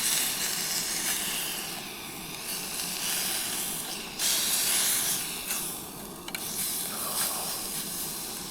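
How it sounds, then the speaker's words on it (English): Steak sizzles in a pan over a campsite fire in the woods, a loud, steady hiss and crackle that carries on without a break and swells a little at moments. "Get ready for the sizzle."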